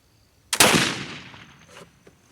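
A single black powder rifle shot cracks sharply nearby outdoors, followed by a long rolling boom that fades over more than a second.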